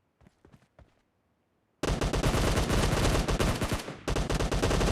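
Gunfire in the video game PUBG: a few isolated shots at first, then after a short pause a loud, dense burst of rapid automatic fire that breaks briefly and resumes.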